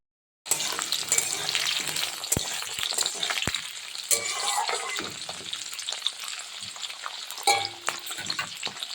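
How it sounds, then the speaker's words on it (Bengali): Chopped raw tomato and green chillies stir-fried in a hot pan, a steady close sizzle with sharp clacks of a spatula scraping and tossing throughout, no voices. "দিচ্ছি কাঁচা টমাটো যেটা কেটে রেখেছি আর ওরই সঙ্গে দিচ্ছি কয়েকটা কাঁচা লঙ্কা এবার নেড়ে কেড়ে নিই"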